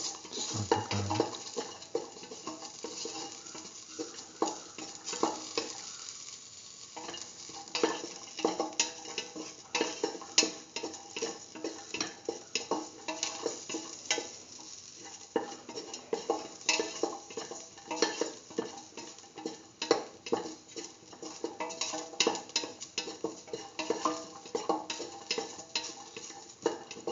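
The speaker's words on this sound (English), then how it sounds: "saute garlic" Garlic sautéing in a pan for a split mung bean and eggplant stew, a steady soft sizzle broken by frequent clicks and scrapes of a utensil stirring against the pan.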